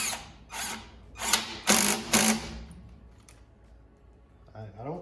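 An impact bit driver tightening a hose clamp on turbo charge tubing, several loud rapid hammering bursts in quick succession, close, then quieter with a voice speaking at the end.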